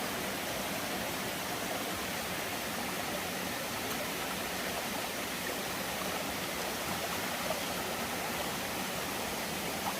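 Steady rushing water spilling over a waterfall in a rocky ravine, a continuous broadband roar that stays even and close for the whole stretch, with no voices over it.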